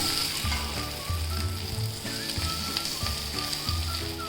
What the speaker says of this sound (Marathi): एका साईडनी शेकलेत दुसऱ्या साईडनी शेकून घेऊ